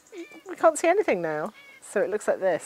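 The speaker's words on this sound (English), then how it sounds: "This is a cat." A cat meows several times in quick succession, close and clear, with drawn-out, wavering cries while a person speaks at the same time.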